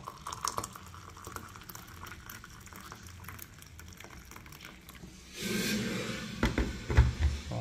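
Boiled water poured from a kettle into tea with Milo, starting as a quiet liquid trickle under room noise and swelling into a louder, fuller pouring splash over the last couple of seconds.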